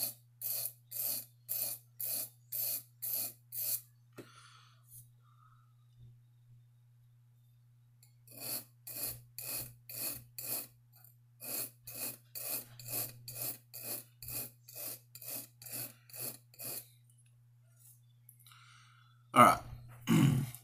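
A knife bevel scraped over a coarse grit abrasive of around 300 grit in quick, rhythmic rasping strokes, two runs of evenly spaced passes separated by a pause, close and alone over a faint low hum.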